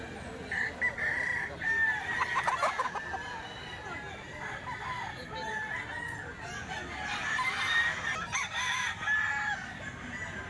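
Several golden boy gamefowl roosters crow repeatedly at a sale, overlapping cock-a-doodle-doos with some clucking, fairly close over a busy background.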